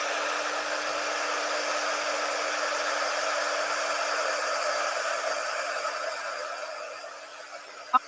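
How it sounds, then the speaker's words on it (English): A handheld heat gun blows hot air at a craft table with a steady, loud, even whoosh. It runs for about seven seconds, fades as it switches off and ends with a small click. No one speaks. "turning on the heat gun"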